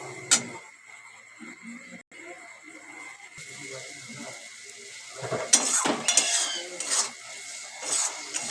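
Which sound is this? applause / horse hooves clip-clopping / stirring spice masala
stirring spice masala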